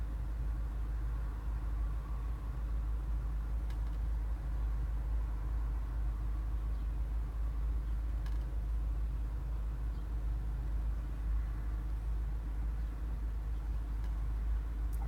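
A 2014-or-later Mazda 3 engine fast idling around 850-900 RPM while still cold, a steady low hum and drone holding constant throughout with no voices.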